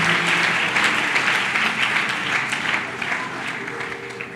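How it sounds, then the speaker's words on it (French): Church congregation applauding loudly, continuous dense clapping from a crowd filling the space, with faint voices underneath. "Acclame très fort pour ton voisin"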